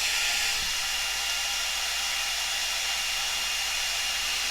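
A Cascade DS-925 hair dryer, under repair and not heating enough, blows steadily at close range, a loud continuous whooshing hiss that stays even throughout.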